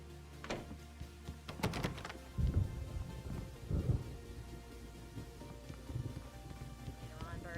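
In Alan Wake, a thunderstorm brings rain, with several deep rumbling thunder bursts and sharp cracks rolling at irregular intervals over a constant hiss of rain, and some speech in between.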